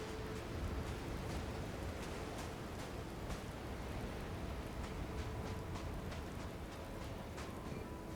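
Rain falling in the video game Starfield, a soft, steady wash of faint patter with scattered drops ticking throughout.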